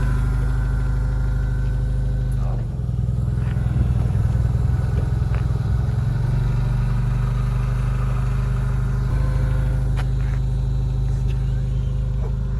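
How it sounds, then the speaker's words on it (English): Small smart car engine idling and running as the car is moved at a club open house, a steady low rumble with a brief rev partway through and clattering noises, while people talk nearby. "I'm gonna gotta move the smart car out of the way"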